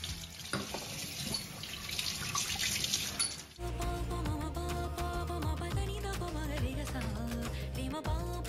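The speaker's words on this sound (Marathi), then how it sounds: "घरातील माझ्याजवळ जे जे दिवे आहेत ते सगळे दिवे स्वच्छ पितांबरीने घासून धुवून घेते" Brass oil lamps are scrubbed with Pitambari powder and rinsed under a running tap, with steady splashing water and scraping and clinking of metal at close range throughout.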